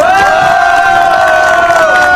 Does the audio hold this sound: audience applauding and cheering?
yes